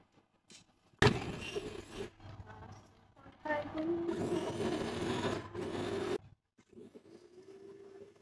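Blender grinding rendang spice paste, a loud whirring motor run in two bursts of a few seconds each, with a short pause between, then brief quieter sounds after it stops.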